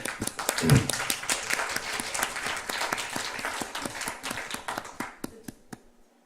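Church congregation at a Korean overnight worship service gives loud, sustained applause to welcome a guest pastor, dense rhythmic claps close and clear that thin out into a few scattered claps before stopping.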